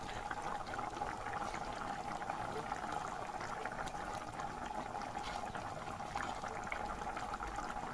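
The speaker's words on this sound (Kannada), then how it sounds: "ಇವಾಗ ನೋಡಿ, ಚೆನ್ನಾಗಿ ಕುದೀತಾ ಇದೆ." Dal bubbles at a steady rolling boil in a pot for dal fry, a continuous, soft, even burble of popping bubbles close by with no talking.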